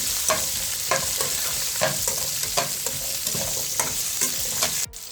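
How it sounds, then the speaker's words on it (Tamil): Garlic, green chillies and tamarind fry in a pan while a spoon stirs them in regular scraping strokes, close and steady, over a constant sizzle. "போட்டு கிண்டி விடணும் நல்லா."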